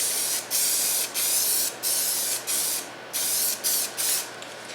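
Colorbond vinyl paint sprayed from an aerosol can onto the headliner of a Toyota 84-88 pickup, seven close hissing bursts in a row separated by short pauses.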